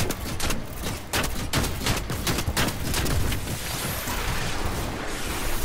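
Gunfire in a Fortnite match, rapid bursts of shots cracking in quick succession, loud and close, running almost without pause.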